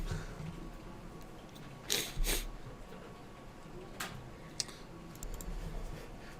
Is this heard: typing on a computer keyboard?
yes